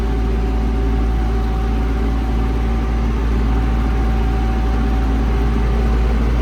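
An MTZ 892.2 tractor engine runs steadily while sowing barley with an old SZ 3.6 seed drill, giving a continuous loud low drone with a constant mechanical hum and no voices.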